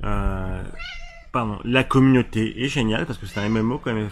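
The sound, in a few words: cat meowing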